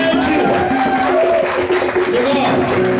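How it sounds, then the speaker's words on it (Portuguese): Crowd applause for a performer at a samba gathering, steady clapping mixed with cheering and overlapping voices, loud and close throughout. "Uma salva de palmas pra Fátima"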